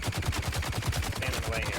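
Rapid automatic gunfire from two heavy gunner enemies in the video game Dune Awakening, a steady stream of low thumping shots lasting throughout at moderate distance.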